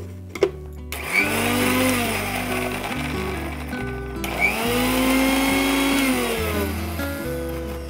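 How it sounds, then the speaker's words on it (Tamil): Mixer grinder grinding halwa ingredients, a loud steady whirring motor that starts abruptly, pitches up and down as the load shifts, with a brief stop and restart midway. "இப்போ இதை அரைக்கலாம்."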